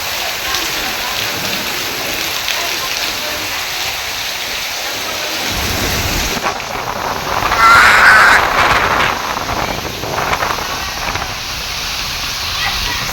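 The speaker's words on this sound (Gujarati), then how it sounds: "અને ભાઈ પાસે વરસાદ મંડાણો" Heavy monsoon rain pours during a windy storm, a thick continuous roar with gusts swelling midway, while crows caw faintly somewhere in the distance.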